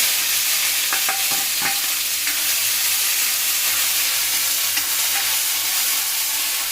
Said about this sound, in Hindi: अब मैं इसमें प्याज डाल